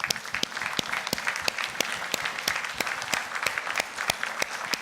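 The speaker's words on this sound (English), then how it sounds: "Please get up and give them a big round of applause for all the newcomers to the HR function." Standing audience applause at an HR conference, with many hands clapping densely and steadily. Distinct sharp individual claps stand out in a regular rhythm above the crowd.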